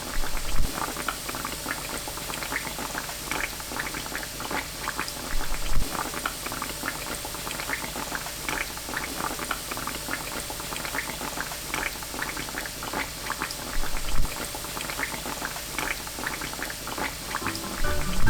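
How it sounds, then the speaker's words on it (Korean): Steady bubbling sizzle of banana donuts deep-frying in hot oil over medium-low to low heat, continuous and fairly close, with small crackles and pops throughout and no talking. "중약불에서 약불로 튀기는 것이 좋습니다"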